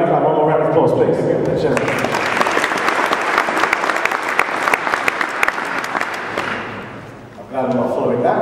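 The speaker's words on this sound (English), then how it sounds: "one more round of applause, please." Sustained applause from a conference audience at a mobile technology convention, loud and dense for several seconds before tapering off, with a speaker's voice heard before and after.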